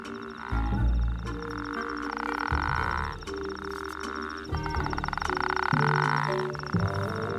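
Several male toads croak in a desert wadi to attract females, their loud, repeated pulsing calls overlapping into a dense chorus that carries throughout.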